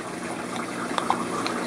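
Water splashed into a brine shrimp hatching container fitted with an airline, a soft continuous watery wash with a couple of brief splashy bursts near the end, close and moderately loud.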